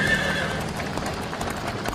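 A frightened horse pulling a caravan along a road neighs loudly and close, with hoof clops and a voice running underneath.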